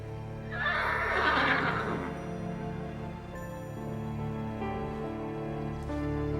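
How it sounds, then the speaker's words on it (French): A horse named as a cartoon stable horse whinnies loudly and fairly close, the neigh rising and trailing off, followed by steady clip-clopping hooves and a lighter whinny over a low musical background. "mon petit Comanche, tu es le plus beau de tous les chevaux de la planète"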